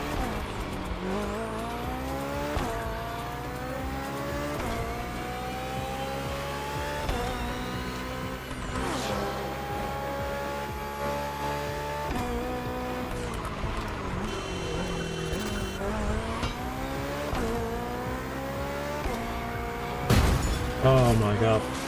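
Two German street-racing cars in The Crew Motorfest video game roar and rev with repeated rising and falling engine sweeps, shifting gears and squealing tires throughout, with a louder burst near the end.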